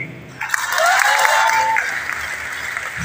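Audience applause filling a seminar hall at a large RCM business meeting, steady dense clapping from a big crowd that swells in after a brief pause and continues evenly throughout.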